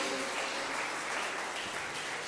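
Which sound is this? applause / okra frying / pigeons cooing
applause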